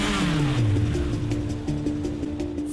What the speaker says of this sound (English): When we start a motor up, it makes a certain noise.